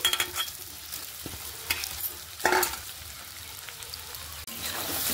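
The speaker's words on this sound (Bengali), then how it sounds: "এবার আমি ওই তেলেই আলু ভাজা তেলগুলোতেই কিন্তু সে সয়াবিন মাখাগুলো আমি হালকা করে ভেজে নেব" Marinated soybean chunks frying lightly in oil left from frying potatoes, a steady soft sizzle with occasional scrapes and clinks of stirring, close and fairly quiet, no voices.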